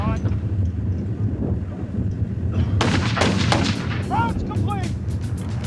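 Artillery fires at a target 3.1 kilometers away, with heavy booms and their echoes rolling in over wind noise on the microphone while someone speaks over it.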